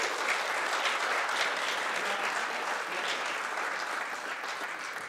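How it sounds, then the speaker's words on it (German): A large audience at a charity gala in Frankfurt claps loudly and steadily for an introduced guest, a thick continuous roar of hands that holds for several seconds and fades a little at the close. "Bitte einen riesigen Applaus."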